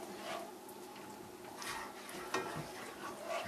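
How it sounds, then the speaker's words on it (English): English peas get stirred into a simmering pot of Thai panang curry, with soft scraping stir strokes over a steady low sizzle. The whole scene sounds faint and close. "I'll just stir that up."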